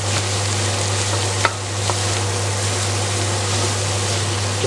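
Pork mince frying in a pan over medium-high heat, a steady close sizzle running throughout with a faint low hum underneath and an occasional soft scrape of stirring.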